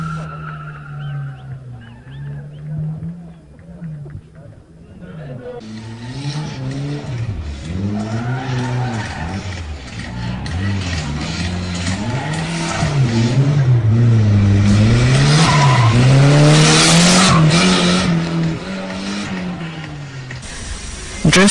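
Cars drifting at a drift race, engines wailing in rising and falling sweeps with skidding, squealing tires, growing steadily louder and denser over a continuous wash of noise.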